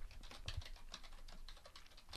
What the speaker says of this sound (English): I'm just going to type some text.